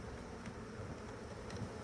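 Honeybees clumped on a hive frame in an Alaska apiary during spring queen replacement, a dense continuous buzzing that fills the brief moment, close and steady.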